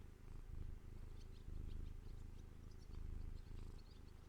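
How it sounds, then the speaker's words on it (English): A cat purring while held right up to the microphone, a steady close, low rumbling purr in slow rhythmic cycles, alone with no talk. "I don't know if you can hear her purring."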